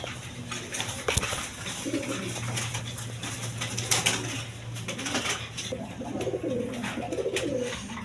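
A pair of shorting pigeons kept at a seller's loft coo in soft, repeated low calls, fairly near, with faint background noise and a brief sharp knock early on.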